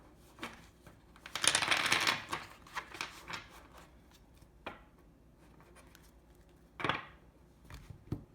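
A Persephone tarot deck being shuffled by hand: a dense riffling burst of cards, then scattered softer taps and slides, with another crisp shuffle near the end, close and fairly quiet.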